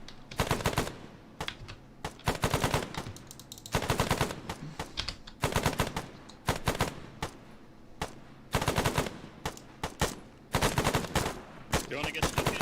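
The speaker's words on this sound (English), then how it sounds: "just fire some suppressive over there, even if you can't fucking see him." Suppressive machine-gun fire in a military shooter game, long bursts of rapid automatic shots repeating every second or two, loud and close, with occasional voices between bursts.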